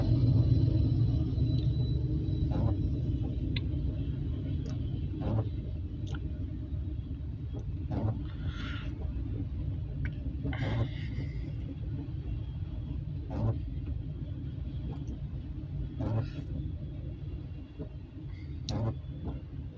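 A CSX freight train rumbles past as a steady, continuous low roar, with faint periodic clicks and clanks from the wheels over rail joints throughout.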